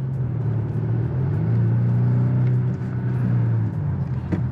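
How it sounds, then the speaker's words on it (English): Turbocharged four-cylinder engine of a 2024 Volvo S60 Recharge plug-in hybrid, a close, steady low droning hum with a sustained tone that rises slightly and holds, heard from inside the car with no talking. "This Turbo 4 too sounds really good"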